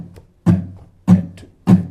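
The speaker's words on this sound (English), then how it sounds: "you miss any of the non-accented beats, and that sounds like this" A bossa nova fingerpicking pattern on guitar, played with only the accented strums: three crisp, evenly spaced strums about half a second apart, each ringing briefly before the next, close and alone with no talking.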